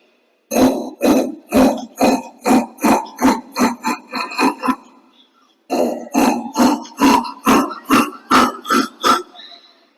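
A voice imitates a coconut being grated by hand in a home kitchen, a run of about a dozen rhythmic, rasping scrapes, a brief pause, then another similar burst of evenly spaced strokes, loud and close.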